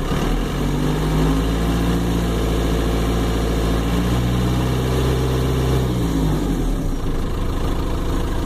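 A turbo diesel engine with a variable-geometry turbo hums steadily, its revs rising and then easing back down, close and continuous throughout.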